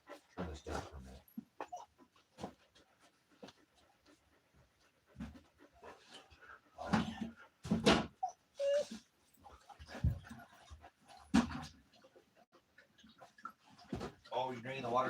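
Puppy dogs panting and whimpering in short, uneven bursts close by, alternating with a person talking to them indoors.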